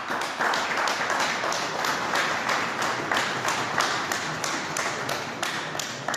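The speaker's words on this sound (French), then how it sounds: "applaudir très fort pour ce papa qui est décédé" Sustained applause from a crowd at a memorial celebration of life held in Belgium for a deceased father, dense steady clapping with rhythmic pulses, loud and continuous throughout.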